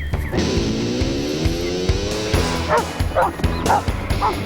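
A young sheepdog pup gives a drawn-out whimpering yip followed by several short, sharp barks at a steady pace, fairly close and clear.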